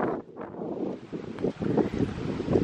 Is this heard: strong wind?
yes